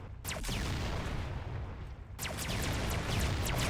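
Repeated blasts and booms from an explosion attack in Roblox Toilet Tower Defense, with broadband bursts and falling sweeps layered over a constant dense rumble, loud throughout.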